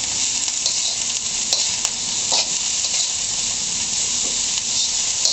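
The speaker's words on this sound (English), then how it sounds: "Going to give that a quick stir." Vegetables sizzle and hiss in a hot pan for a vegan soba noodle stir fry, with a steady loud frying roar and occasional scraping stirs, close up and without talk.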